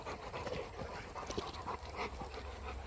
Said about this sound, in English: Let those puppies play and go.